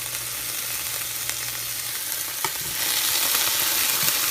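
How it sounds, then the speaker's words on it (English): Food sizzling and frying in a hot saute pan on the stove, a steady close crackle that grows a bit louder partway through with a brief clink, no voices. "I'm going to put them in to our saute pan, or frying pan, whatever you want to call it."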